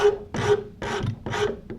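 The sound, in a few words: rasp filing wood to the line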